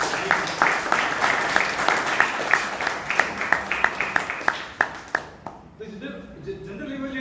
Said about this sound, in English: I ask you to give a big round of applause to him.